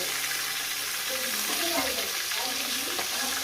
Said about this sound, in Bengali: আমি মাছের মাথাগুলো এটা ভেজে নিয়েছি এবার এটা তুলে নেব